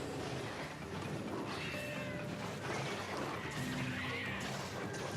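A Palico cat companion in Monster Hunter Generations meows several times during a hunt, the short cries mixed into busy, continuous game noise.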